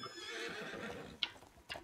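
A horse neighs and whinnies in the open-world western game Red Dead Online, a loud close call that sustains for a moment, then two brief sharp bursts follow near the end, with no talking.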